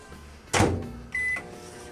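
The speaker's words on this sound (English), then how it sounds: "We're gonna put it in the microwave for 30-second increments" A microwave oven heating chocolate chips and butter, a door thud or button press, then a short steady electric hum with a high tone, close by and without speech.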